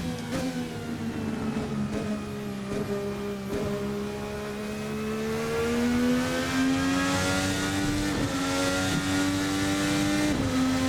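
Twin-turbo Formula NA race car engine from the 2018 VRC sim racing game, a steady droning tone that rises as it accelerates, with several quick gear-shift dips and a brief tire squeal, loud and continuous without talk.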